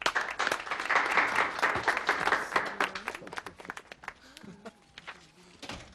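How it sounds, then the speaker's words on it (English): Applause in a courtroom, fairly faint and uneven, with scattered individual claps and some shuffling or footsteps as it thins out toward the end. "The court wants to take the time to applaud her for that"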